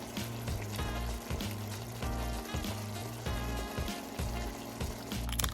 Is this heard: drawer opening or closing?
no